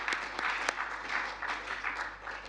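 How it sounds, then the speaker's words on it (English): Audience at a science symposium session on land management gives speakers a round of applause: soft, steady, distant-sounding clapping from a room of listeners, continuous for a few seconds. "And a big round of applause for our speakers this afternoon."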